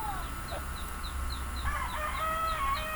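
Backyard chickens at feeding time near a hut, clucking in a rapid series of short, repeated calls, with a brief crow-like call partway through. The birds sound fairly close and there is no talking.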